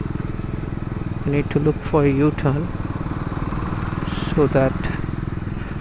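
A Triumph Scrambler 400X motorcycle rumbles steadily on the move, its engine drone continuous and close beneath a rider talking briefly.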